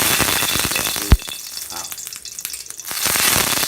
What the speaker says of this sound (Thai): วันนี้ก็ผัดผักพรุ่งนี้ก็ผัดผัก